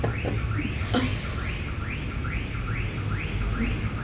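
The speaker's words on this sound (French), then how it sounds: "C'est une alarme parce que quelqu'un a touché une auto qui n'aurait pas dû toucher." A car alarm wails in a steady repeating up-sweeping tone, several cycles in a row, over a constant background hum.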